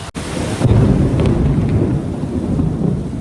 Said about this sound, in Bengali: এখানে তখন থেকে কি জোরে জোরে বাজ পড়ছে